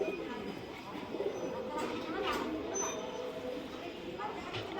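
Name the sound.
Malbai pigeon cooing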